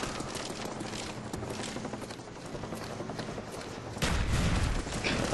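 Rapid bursts of gunfire from the Call of Duty Black Ops shooter, a dense crackling fusillade at moderate distance, building to a louder burst near the end.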